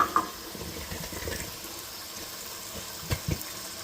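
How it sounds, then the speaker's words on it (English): A quart of cold tomatoes pours into a hot pan, giving a soft, close, wet sloshing and gurgling that swells briefly at the start and again near the end. "let's get our tomatoes in here"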